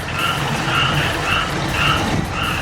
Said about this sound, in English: There's a whole frog colony down there.